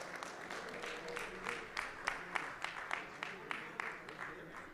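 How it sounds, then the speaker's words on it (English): Applause at a city council meeting honoring school crossing guards, a modest crowd clapping steadily in a sparse, uneven patter, faint and roomy with voices beneath. "Round of applause for them, please."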